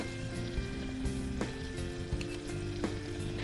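A paste enriched with cream simmers in a pan with a steady bubbling sizzle, broken by a few sharp clicks, and no one speaks.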